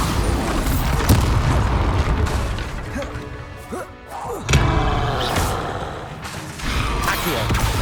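Bombarda spell blasts in Hogwarts Legacy land as heavy booms and crashing impacts with creaking debris, recurring amid loud, continuous combat sound, with a brief lull in the middle.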